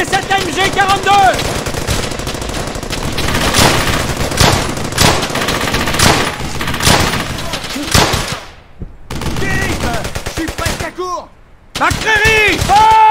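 Rapid machine-gun bursts and rifle fire rattle loudly and almost nonstop in a WWII battle from Brothers in Arms: Hell's Highway, an MG-42 among the guns, broken by a couple of short lulls, with soldiers shouting orders over the shooting.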